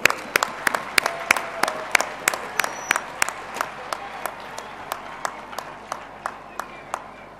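Steady, evenly spaced claps ring out at a large Rashtra Katha Shibir gathering in welcome of Swami Dharmbandhu, crisp repeated hand strikes over a faint background hum, slowly easing toward the end.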